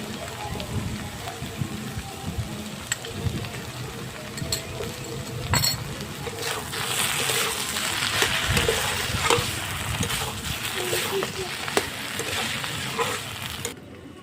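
Papaya frying in ghee for a vegetarian papaya ghonto, a broad steady sizzle with stirring scrapes and occasional utensil clinks, swelling louder midway and stopping abruptly near the end.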